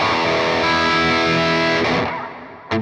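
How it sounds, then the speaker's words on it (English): An electric guitar played through a distortion effect chugs out sustained, loud, heavily saturated chords that fade toward the end before a fresh sharp strum. "Let me know if the guitar sounds alright."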